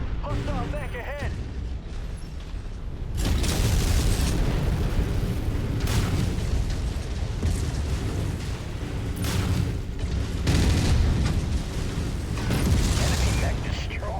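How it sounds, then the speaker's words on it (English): An enemy mech blows apart in MechWarrior 5, a loud sustained roar of booming explosions and mechanical rumble that starts abruptly and rolls on with further blasts, with a radio-style voice heard briefly. "Enemy mech destroyed."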